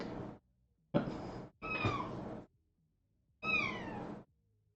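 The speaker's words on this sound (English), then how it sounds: "My cat has joined me and is just sitting behind me meowing." A house cat sits close behind someone and meows four times in short, clear, separate calls, with short silences between them and no speech.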